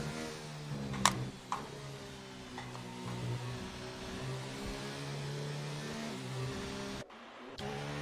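A McLaren Formula 1 car engine in the F1 2019 racing game, heard on board during a cool-down lap at the Spanish Grand Prix, holds a steady mid-pitched drone with slight rises in revs throughout.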